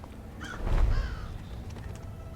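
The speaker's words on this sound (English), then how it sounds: "Shh, quiet bird." A bird caws harshly in the stealth video game Thief, one or two loud raspy calls close by over a low ambient game backdrop.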